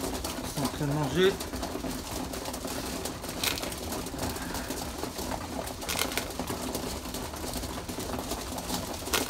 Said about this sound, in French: Ah, les pigeons